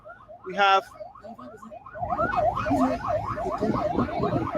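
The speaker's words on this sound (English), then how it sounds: "you can hear the siren in the background." A wailing siren rises and falls steadily in the background, with people talking over it.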